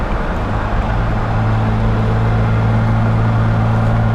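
A modified 1968 Jaguar E-Type Series 1.5 roadster with a 4-speed gearbox drives along, its engine a steady low hum under broad road and wind noise, smooth and continuous without revving.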